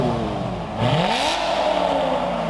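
A Chevrolet Corvette engine revs up, its pitch rising sharply partway through and then holding at a steady high drone, loud and close with no talk over it.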